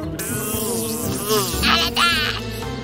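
A steady insect buzz hums through the clip, rising and swelling in places, with a few faint wavering tones over it.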